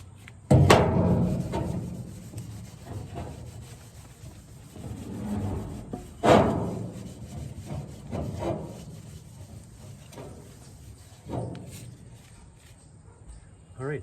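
A rag rubs used engine oil onto a steel pick head in several loud, rough scrubbing strokes with pauses between them, and a voice speaks quietly in the background.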